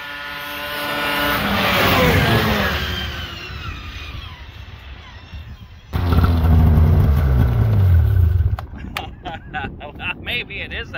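An F7 and an XC 700 race each other, their engines roaring in a long rising and falling pass, then a loud close drone that cuts off abruptly, with wind buffeting and people talking throughout.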